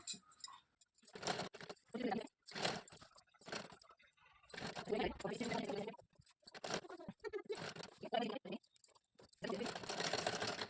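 A sewing machine runs a line of stitching over folded pleats in fabric for an Afghani-style salwar, in repeated short bursts with brief pauses between runs, close and moderately loud.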